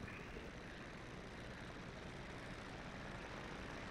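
A Fokker First World War airplane engine in a virtual air show at La Ferté-Alais: steady, dense engine drone that stays loud and unbroken, with no voices.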